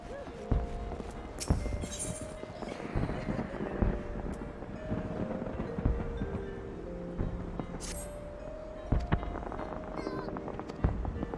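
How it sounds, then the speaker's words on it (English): Fireworks in the Final Fantasy XIV game world, with sharp bursts and crackles at irregular intervals over a rumbling, busy background, several pops standing out loud and close. "Oh, fireworks."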